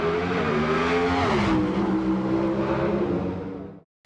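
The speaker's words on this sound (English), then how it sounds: "This was a NHRA Pro Stock truck engine." An NHRA Pro Stock truck engine from a 1999 championship drag race roars loudly at high revs, a dense, harmonic drone that climbs slightly in pitch before cutting off abruptly near the end.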